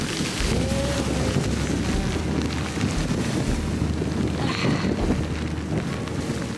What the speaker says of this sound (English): Just too windy and wavy.